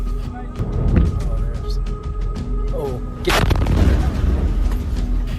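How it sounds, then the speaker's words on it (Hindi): Explosions from an Iranian missile attack on a US military position, caught on a soldier's recording: a deep boom near the one-second mark and a louder broadband blast around three seconds, over rumbling background noise with voices. "यहां अमेरिकी सैनिक ईरान के मिसाइल अटैक को रिकॉर्ड कर रहा था"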